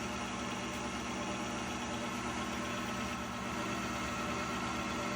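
An electric mixer whips egg whites with a pinch of cream of tartar and salt at high speed, giving a steady, dense, continuous whirring drone that holds evenly from start to finish with no voices.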